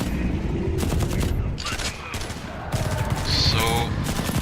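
Rapid SMG bursts crackle in The Red Solstice, dense overlapping gunfire that runs almost unbroken with brief gaps, loud and close, with faint in-game effects mixed in.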